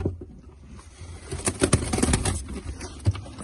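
A pair of pigeons held in the hands, giving soft low cooing over faint rustling and handling noise, close by and fairly quiet.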